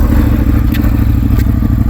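A Ducati 848 motorcycle engine runs after a clutch replacement, a loud, close, rough idle with steady clattering pulses and a couple of brief sharp clicks.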